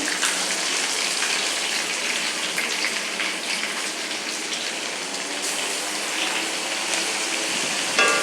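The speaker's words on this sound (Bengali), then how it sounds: "পেঁয়াজটা ভেজে নেবো" Chopped onions sizzle steadily in hot oil for a fish roe kofta curry, a continuous loud hiss and crackle with no pauses and a small clatter near the end.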